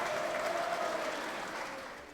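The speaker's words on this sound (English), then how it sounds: "Wow. Applause." Steady applause from a crowd, many hands clapping in a dense wash that fades slightly toward the end.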